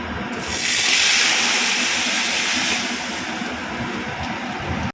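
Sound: lentils added to hot pan tempered with dry chilli and black mustard

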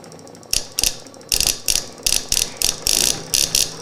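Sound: homemade pulse motor spinning

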